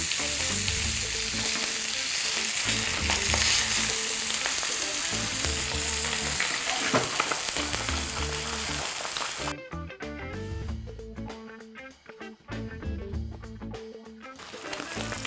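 Beef steaks sizzle loudly in a pan with butter, garlic and fresh peppers, a steady bright frying hiss that falls quieter toward the end, with soft stirring and scraping sounds.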